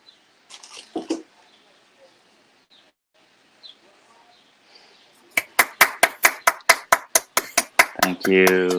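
A single person clapping at a literary reading, with quick, crisp, evenly paced claps close by after a stretch of faint room noise and brief speech.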